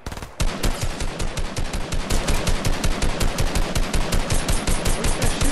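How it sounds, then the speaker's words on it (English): Automatic gunfire in Fortnite Chapter 2 Season 1: after a brief opening, loud rapid shots fire in a fast, even, continuous rhythm with no talking. "Where's that shooting at?"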